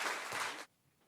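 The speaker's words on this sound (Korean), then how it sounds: "박수 부탁드리겠습니다." Audience applause fills a church hall during a Wednesday worship lecture on the Shincheonji sect, a dense burst of clapping lasting about half a second before cutting off abruptly to near silence.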